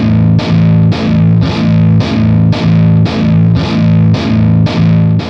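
Electric guitar played through a Kemper profiler and a real amplifier, distorted chords struck in an even repeated rhythm, about nine loud hits each ringing briefly.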